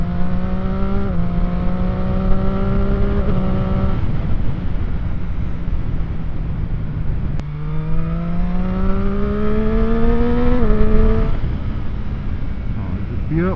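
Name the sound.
motorbike riding and accelerating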